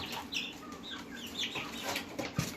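Hens cluck and chirp in a close, busy series of short calls, with a soft scratchy background and one sharp knock near the end.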